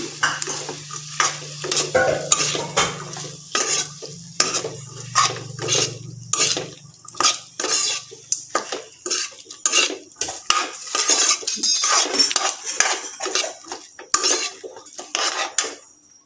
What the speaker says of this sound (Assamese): এতিয়া এইখিনি ভালদৰে লৰাই দিম।